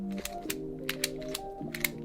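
A magnetic Rubik's cube is turned in quick moves, giving a string of sharp clicking snaps about every quarter second over a faint steady hum, close and without talk.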